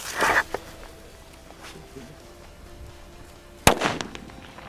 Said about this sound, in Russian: Далее у нас петарды треуголка К1208.